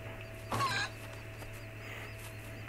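A single short chicken cluck or squawk from the video game Fable 2 near the half-second mark, alone over a steady low hum and faint background ambience.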